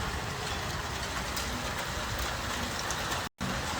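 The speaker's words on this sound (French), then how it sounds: "Il pleut." Steady rain falls in Clermont-Ferrand in July as a dense, even hiss that is close and continuous, with a brief dropout near the end.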